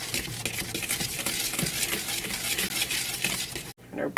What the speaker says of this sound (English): I don't have a sifter, so I'm just going to whisk it.